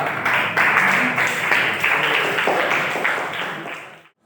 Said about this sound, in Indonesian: Kalau sudah beri tepuk tangan yang untuk kelompok 2.